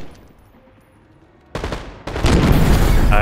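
Gunfire from the video game Black Ops 6 bursts in loudly after a quiet start, building into sustained rapid automatic fire that grows denser toward the end.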